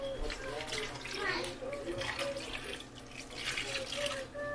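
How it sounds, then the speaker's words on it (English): Water running from a kitchen tap while cooking a Sunday comfort-food dinner, a steady close splashing stream with small fluctuations, continuous throughout. "2 cups of water."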